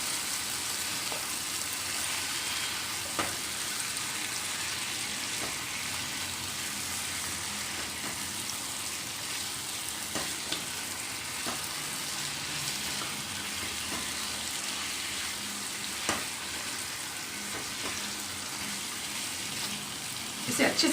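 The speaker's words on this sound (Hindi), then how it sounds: "इसे अच्छे से भूनिए ताकि ये जो चिकन की रॉ स्मेल है ये चली जाए" Marinated chicken sautéing with tomatoes and masala for Kolhapuri chicken, giving a constant hissing sizzle close by with a few faint clicks and knocks from the pan.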